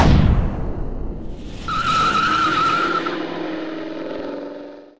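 A Chevrolet 427 stroker V8 on an engine dyno, loud and close, dropping from a rough low rumble into a brief lull, then rising into a strong sustained high-revving wail before winding down at the end.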